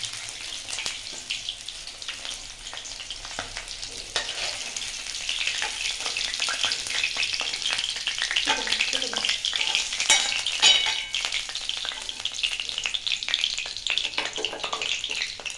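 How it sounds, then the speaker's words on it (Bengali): Ritha fish sizzles and spatters steadily in hot oil, a continuous crackling hiss with occasional stirring sounds, close by. "মাছ ভালো করে ভেজে নেবেন লাল করে"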